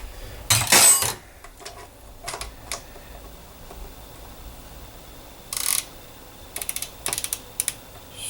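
Ratchet tightening a pinch nut on a Torqueflite 727 automatic transmission during a rebuild, giving bursts of rapid clicking strokes separated by pauses, close and crisp with small metallic handling noises between.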